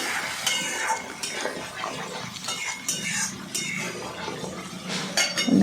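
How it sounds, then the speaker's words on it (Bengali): A spoon stirs salt, turmeric and cumin masala in a pan for pomfret curry, with continuous scraping and metallic clinks of utensil on pan over a low sizzle. "এবার নাড়তে থাকবো, তলটা যাতে ধরে না যায়"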